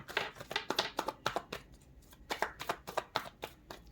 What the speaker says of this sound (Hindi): पहले मैं सारे कार्ड्स निकालूंगी गाइस